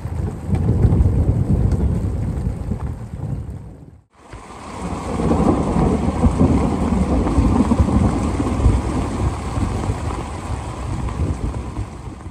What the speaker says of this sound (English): we heard some rumbling overhead in the area